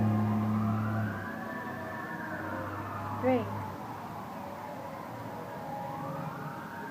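Distant sirens sweep slowly up and down, a faint wail beneath low rumbling, with a brief spoken word partway through.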